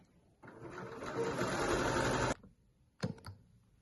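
Sewing machine stitching together layers of fleece and jersey, a close steady whirring run of about two seconds, then a brief second burst after a pause.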